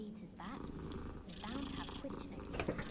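A cat purrs in the video game Hogwarts Legacy, a soft low rumbling purr running through the short clip under people talking over it.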